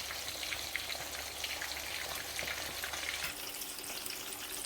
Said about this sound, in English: when I want to fry my plantain, I used to fry it in this machine